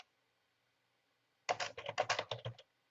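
Typing on a computer keyboard, a quick close burst of a dozen or so crisp clicking keystrokes that begins after a second and a half of near silence.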